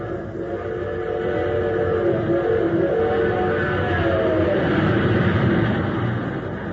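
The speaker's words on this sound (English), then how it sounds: "now listen to that same train with super fuel in its tank" A radio-drama effect of the Terra City Express train racing along on super fuel: a loud, steady rushing rumble of wheels and wagons with a high whistle tone sliding through the middle, close and continuous.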